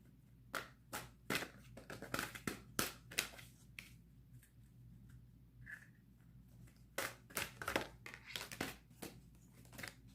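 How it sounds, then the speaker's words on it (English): Tarot cards shuffled by hand in a quiet room, a run of sharp crisp riffles and slaps in irregular bursts, with softer crinkly handling between them and no talking. "I'm going to shuffle one more time."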